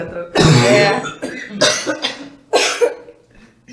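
Three harsh coughs in a row, close and loud, the first the strongest, with short pauses between them.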